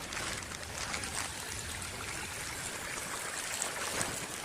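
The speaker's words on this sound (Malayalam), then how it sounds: "പുഴ പോലെ ഒഴുകുന്നത് വെള്ളം" Rainwater running like a stream across a house yard after heavy rain, a soft, steady rushing trickle heard from a short distance, fairly faint and unbroken, with no talking.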